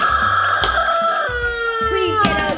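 A toy chicken gives a short series of squawks and clucks, close and bright, a few quick cries within a couple of seconds.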